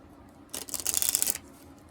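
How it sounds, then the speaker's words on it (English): Angel oracle cards are shuffled by hand in a quick burst of crisp riffling and flapping that lasts about a second, close and fairly loud against a quiet room. "So let me give them a quick shuffle."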